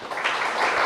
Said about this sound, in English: please do give our councillors and participants here a big round of applause